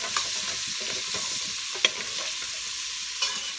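Diced pieces sauteing and stirred in bacon grease in a pan, a soft steady sizzle with occasional scraping clicks, quiet and close, no talking.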